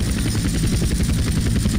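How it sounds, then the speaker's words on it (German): Helicopter in GTA San Andreas during a sky crane mission: a loud, constant rotor thump and engine roar, close and steady throughout, with no talk. "Lande den Helikopter in der markierten Zone."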